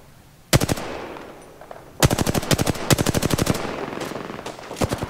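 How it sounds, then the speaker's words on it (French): Gunfire in the video game Apex Legends: a single loud shot, then long rapid automatic bursts with sharp evenly spaced cracks, followed by a few more scattered shots, close and dominant. "y'a plein de monde qui leur tire dessus là"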